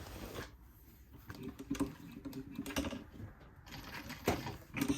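A heavy-duty sewing machine for thick thread stitches denim in short, faint, uneven bursts of mechanical chatter, with brief pauses between runs.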